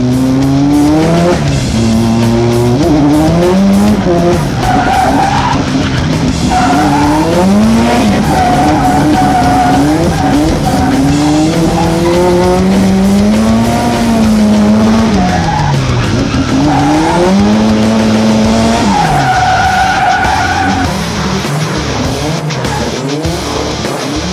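A car street drifting at night in Osaka with a Team Burst driver, heard from the passenger seat: tires squeal long and loud with rising and falling pitch as the engine revs continuously throughout.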